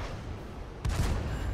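A tank cannon fires once in World of Tanks, a sudden heavy boom that rolls into a rumbling decay over a quiet, low background hum.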